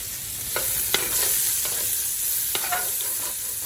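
Two chopped medium onions frying in a pot over nearly high heat, a steady sizzle running throughout, broken by a few sharp scrapes and clinks of a utensil stirring against the pot.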